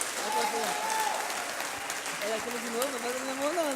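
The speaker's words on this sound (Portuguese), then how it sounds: "Irmãos, aplauda bem veementemente a vida do Johnny." A church congregation claps continuously throughout, with a voice sounding over the applause.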